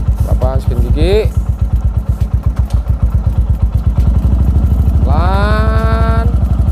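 A motorcycle idling close by with a steady, fast thumping putter while being shifted into gear; someone talks over the engine throughout.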